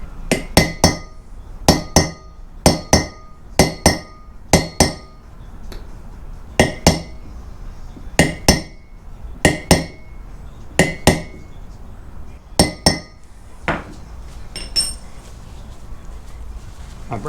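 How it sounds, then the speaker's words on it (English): A brass drift taps a seal flat onto a Ford Ranger rotor during a wheel bearing job, giving sharp metallic clinks in quick bursts of two or three strikes, spaced by short pauses and heard close up. "I'm going to switch over to the brass drift and I'm just going to walk the edge of that seal down all the way flat onto the"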